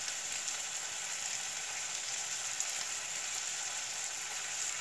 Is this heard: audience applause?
no